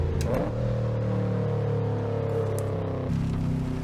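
A Subaru WRX with the Aphidgod tune in Assetto Corsa revs hard on the Pikes Peak hill climb, its engine note holding a loud, steady drone before dropping in pitch near the end, with no talk.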